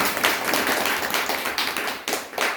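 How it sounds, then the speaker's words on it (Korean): Audience at a stock-trading lecture clapping in a short, fairly loud burst of many hands, close and uneven, with no talk over it. "박수 한번 쳐보세요."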